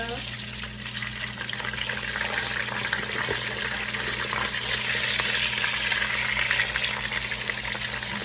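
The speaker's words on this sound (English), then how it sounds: "We just season it up real nice and just fry it." Seasoned green plantain slices for Panamanian patacones frying in hot oil, a steady loud sizzle and crackle running throughout, with faint clinks as pieces are turned.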